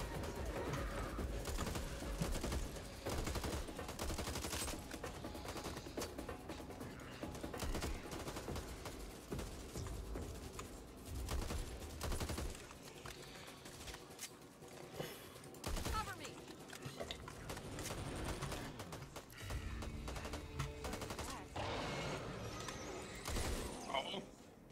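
Gunfire in a shooter video game crackles in dense bursts throughout, layered over constant game noise and music with a player talking at times.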